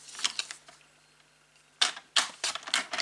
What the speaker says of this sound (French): Donc je coupe ce qui dépasse.